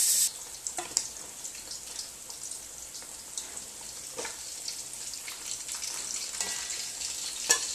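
Fish sizzles and crackles in hot oil, a steady bubbling hiss broken by sharp pops and spatters.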